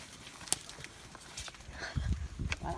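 A ridden carabao (water buffalo) walking, giving soft irregular hoof thuds and clops on the ground, fairly faint and close, with scattered handling noises and a louder scuffing stretch toward the end.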